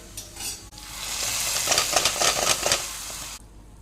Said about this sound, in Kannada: ಇವಾಗ ಈರುಳ್ಳಿ ಚೆನ್ನಾಗಿ ಫ್ರೈ ಆಗಲಿ